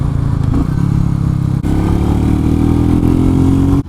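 Royal Enfield Meteor 350 motorcycle cruising on a highway, a loud, close, steady single-cylinder engine drone with a brief dip midway before the engine note picks up again.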